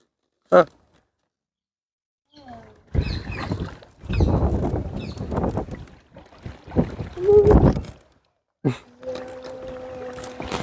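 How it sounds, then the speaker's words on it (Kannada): A round coracle spins on a river with irregular bursts of paddle splashing, water noise and wind buffeting, separated by quiet gaps. "ಇಲ್ಲಿ ದೋಣಿನ ತೆಪ್ಪವನ್ನ ಸುತ್ತಲೂ ತಿರುಗಿಸ್ತಾ ಇರೋದನ್ನ ನೀವು ನೋಡ್ಬೋದು"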